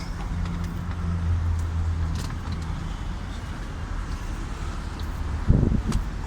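Car creeping forward slowly during a road rally day from Geneva to Barcelona, a steady low engine and road rumble with wind buffeting the microphone and a brief louder thump near the end.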